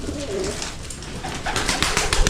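Pigeons coo softly nearby over a noisy, rustling background, with a few low, throaty calls across a brief moment.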